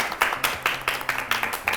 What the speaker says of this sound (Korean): 곽규홍 검사님을 큰 박수로 맞이해 주세요.